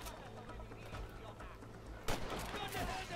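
Carbine gunshots in the Red Dead Redemption video game, a few muffled cracks in a low, murky mix, with one sharper burst near the end and a voice talking underneath.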